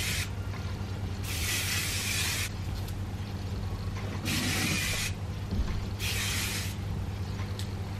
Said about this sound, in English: So I like the Joico thermal protection spray.